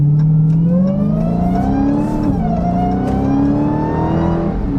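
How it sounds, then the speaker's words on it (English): Supercharger whine and exhaust roar of a 2021 Dodge Charger Hellcat Redeye under hard acceleration, a loud, close, continuous engine note rising in pitch with a brief dip as it shifts. "Listen to that supercharger. It's almost louder than the exhaust at times"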